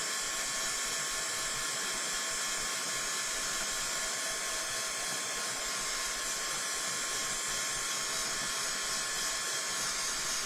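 A heat gun blows hot air to heat-set and dry brown paint on MDF pieces, a loud, continuous, close roar of fan and airflow with no break and no talking.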